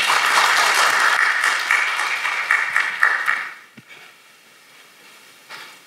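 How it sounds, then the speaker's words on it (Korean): Lecture audience applauding to welcome a speaker, a dense wash of clapping for about three seconds that thins into scattered claps and quiet room noise. "박수로 맞이해 주시기 바랍니다."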